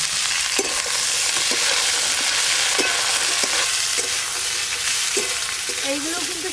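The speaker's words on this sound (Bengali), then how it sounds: "এবার বটবটি আর বেগুন একসঙ্গে ভেজে নেব।" Pointed gourd and eggplant fry together in hot oil, a loud continuous sizzle broken by repeated scraping stirs and a few soft clinks of the spatula against the pan.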